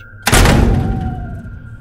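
A bedroom door slams shut with a loud, heavy thud, followed by a ringing resonant tail that slowly fades, a single close impact staged as a horror sound effect.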